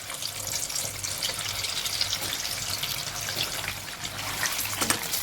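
Small methi sabudana pakoras dropped into hot oil fry with a steady crackling sizzle, bubbling close and fairly loud throughout, with brief splashy bursts near the end.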